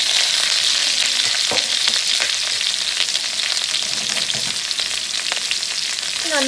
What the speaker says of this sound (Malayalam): ഇനി നമുക്ക് ഇതിലോട്ട് അരിഞ്ഞു വെച്ചേക്കുന്ന ഉള്ളി ആഡ് ചെയ്ത് കൊടുക്കാം.